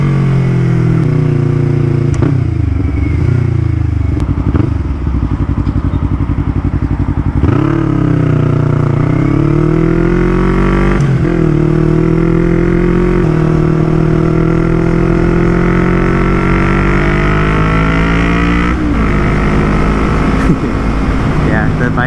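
Yamaha MT-03 with a full Akrapovic exhaust and airbox mods, heard close and loud while riding as the engine drops through several downshifts, each with a blip and rising revs, under constant wind rush.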